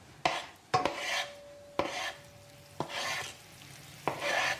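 Anchovies go into a hot pan and are stirred, giving repeated scraping strokes with sharp knocks of utensil on metal over a soft sizzle, close and fairly loud with no talking.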